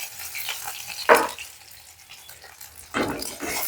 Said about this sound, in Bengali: এবার গ্রেভির জন্য আমার তেলটা এখানে গরম হয়ে গিয়েছে। আমি এর মধ্যে দিয়ে দিচ্ছি আদা কুচি আর রসুন কুচিটা।